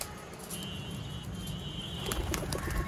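Sialkoti pigeons coo in a low continuous murmur nearby, joined late by a few sharper taps and rustles.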